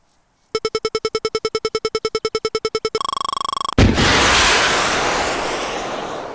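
A Javelin missile in ArmA 3 gives a run of evenly spaced lock-on beeps that turn into a rapid steady tone. A sudden loud launch blast follows, then a long roaring rush that slowly fades.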